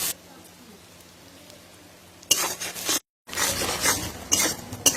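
Onions fry in hot oil until soft, with a bright crackling sizzle that bursts in after a quiet start, cuts out briefly, then returns close and steady.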